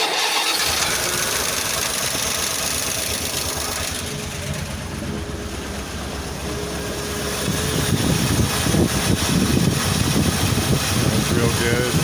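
A 1988 Dodge D350 rat rod tow truck cranks and then settles into a rough, rumbling idle, close and loud, with the engine growing louder and more throaty in the second half.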